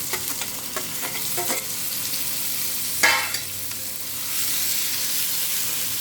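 Mutton sizzles steadily in a hot pan, with a few stirring scrapes early on, then the hiss swells louder and stays constant.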